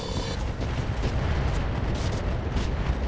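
Weapons fire and a cluster ammo explosion in the mech game RogueTech, a loud dense roar of blasts and rumbling booms that runs continuously through the whole stretch with no speech.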